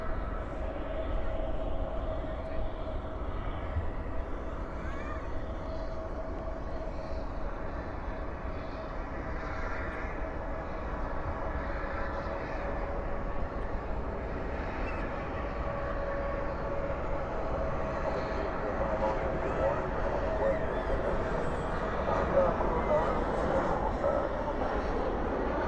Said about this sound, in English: It's an A319 from Sioux Falls